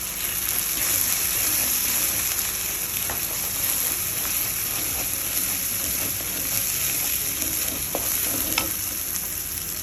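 Tomatoes sautéing with spices in a pan for a mushroom pepper fry, a steady close sizzle and hiss with occasional soft stirring clicks, continuous throughout with no talking.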